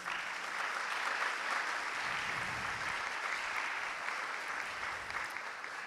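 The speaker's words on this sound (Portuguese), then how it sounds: "uma salva de palmas" Audience applause for a historian introduced as mediator at a conference with Jessé Souza, a steady, dense wash of clapping that holds evenly throughout without any voices.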